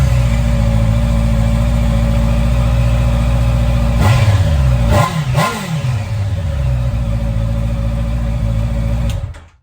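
A Honda CBR650R motorcycle with its stock exhaust idles with a deep, bassy rumble. Two sharp revs come about midway, then it settles back to a steady idle before cutting off at the end.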